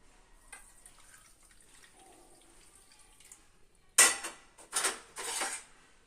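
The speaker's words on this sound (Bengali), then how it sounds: "সেই বাটি মেপেই জলটা সুজির মধ্যে দিয়ে দেব" Water is poured from a bowl into a bowl of semolina (sooji), a sudden splashing gush after a quiet kitchen lull, coming in three loud bursts with clinks of the bowls, no talk.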